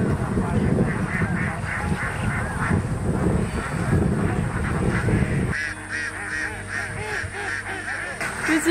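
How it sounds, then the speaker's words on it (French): Many ducks quack and honk together in a dense, noisy flock close by in Kochi, India, the chorus thinning slightly toward the end. "il a fallu que je vienne en Inde pour voir autant de canards"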